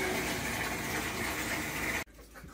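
Water rushes loudly and steadily into a DIY 5-gallon canister filter, a broad close gushing hiss that cuts off abruptly, leaving a quieter low hum behind.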